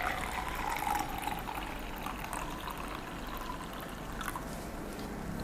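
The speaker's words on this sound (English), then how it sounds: "I'm going to add water," Water poured into a cup of strawberry syrup to make strawberry lemonade, a steady, fairly quiet splashing pour that runs for several seconds over a constant background hiss.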